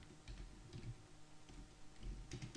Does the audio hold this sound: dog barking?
no